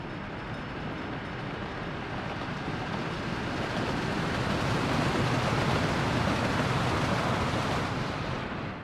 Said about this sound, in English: There's a train coming. It's gonna be a bit loud.